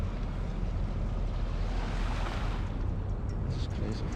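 Harbour water surges against an old stone harbour wall in a Scottish fishing village, a dense, continuous wash blended with heavy wind buffeting the microphone.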